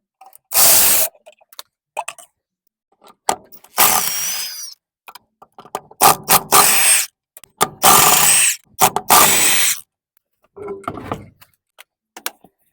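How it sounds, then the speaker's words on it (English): Truck wheel lug nuts come off with a ratchet tool, loud short bursts of mechanical rattling and whirring separated by pauses, close up. "Now we can take off the wheel."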